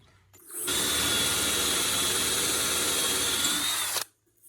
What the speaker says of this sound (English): On the drill here, when I turn it on